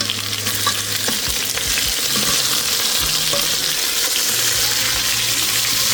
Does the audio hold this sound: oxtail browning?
yes